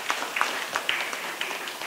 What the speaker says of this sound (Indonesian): tepuk tangan untuk Ujung Manik